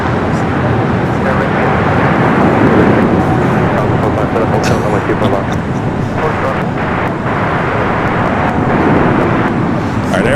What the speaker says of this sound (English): Air France rolling down to 24 left, heading back to Paris